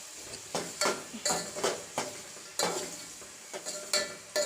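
Chopped tomato stirred and frying in oil in a pan for vegetable pulao, with a steady sizzle and repeated scraping strokes of a spoon against the pan at a brisk, uneven rhythm, close up and without talk.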